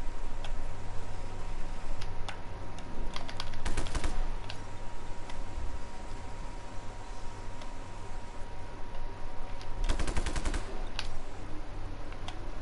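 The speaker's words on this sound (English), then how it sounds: "We'll shoot it." Bursts of rapid gunfire in the video game Just Cause 3, with two clusters of quick repeated shots over a steady ambient game hum, no talking.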